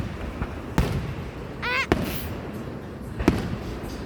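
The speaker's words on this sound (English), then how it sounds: "before we light a firework like that, I think it went down on the ground, really, and exploded on the ground" Fireworks at a July 3rd show, several sharp, distant bangs spaced a second or more apart, with a brief whistling rise in between, over crowd murmur and outdoor noise.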